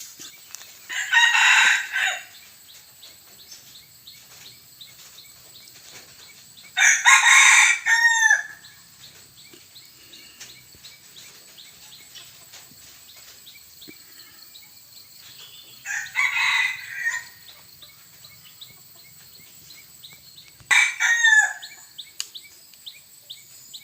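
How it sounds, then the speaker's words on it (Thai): Hybrid fighting rooster crowing four times, each crow a loud, close, drawn-out call separated by quiet pauses with faint background chirps. "มาจะให้ขันให้ชมหน่อยครับผม"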